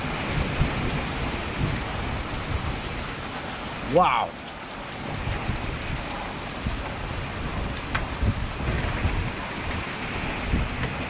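Heavy rain pours steadily in a thunderstorm, a dense hiss heard from a doorway, with a sharp crack of nearby thunder partway through and a brief spoken exclamation over the downpour.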